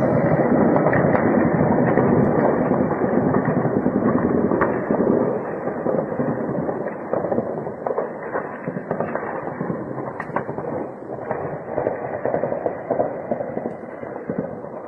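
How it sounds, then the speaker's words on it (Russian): Artillery shelling in Kyiv during the war, a dense, continuous barrage of booms and crackling blasts that rumbles on for the whole stretch, loud and somewhat distant, with no voices over it. "Это уже четвертый заход, где-то было по 34 минуты стреляют."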